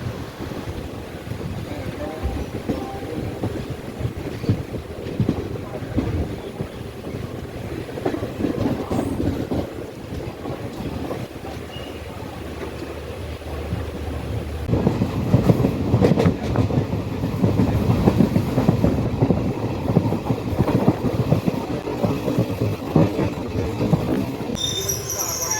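A passenger train runs along the Shoranur–Nilambur railway line in Kerala, a steady rumble and clatter of wheels on rails with wind, continuous throughout and growing louder and busier in the second half.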